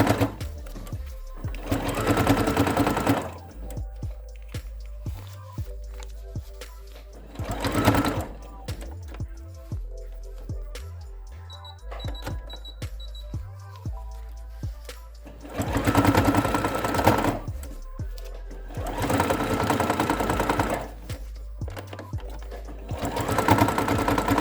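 A sewing machine stitches layers of fabric scraps together in several separate bursts, close and clear, with quieter handling of the fabric between runs.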